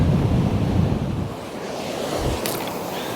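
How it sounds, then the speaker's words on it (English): On a beach at Cambois, Northumberland, a strong wind buffets the microphone over the steady roar of breaking surf. It is loud and continuous, with a deep rumble throughout. "that wind is very, very strong. It's making casting pretty tricky. There's a good bit of surf out there now."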